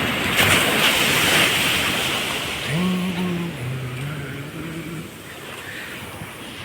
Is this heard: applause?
no